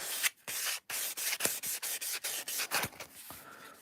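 Short, rhythmic strokes of sanding rub across the plastic parts of an Airfix Concorde model kit, close and quiet, with brief pauses between passes and no speech.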